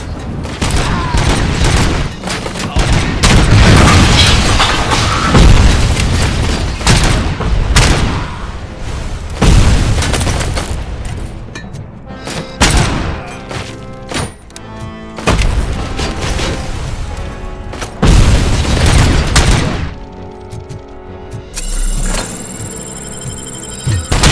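Heavy explosions and gunfire in RoboCop: Rogue City, repeated loud booming blasts and crackling bursts rolling through most of the stretch, with short quieter gaps before a final electronic tone.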